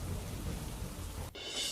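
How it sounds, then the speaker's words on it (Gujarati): Heavy monsoon rain pours in Porbandar, Gujarat, with a continuous dense roar and a low rumble of thunder underneath. "ધોધમાર વરસાદના પગલે રસ્તાઓ બેટમાં ફેરવાયા."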